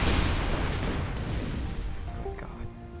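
A grenade explodes in the artillery video game Shell Shock Live, a loud, deep boom that rolls off and decays over about three seconds, with faint tonal game sounds rising near the end.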